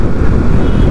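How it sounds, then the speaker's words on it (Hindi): Strong, dangerous wind in bad weather buffets the microphone, giving a loud, continuous low rumble for the full second with no talking. "मौसम क्या देख क्या खतरनाक हवा चल रही है"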